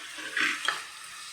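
Chopped tomato is stirred into a drumstick curry in a pan, making a soft scraping swirl over a faint, steady sizzle, close and brief.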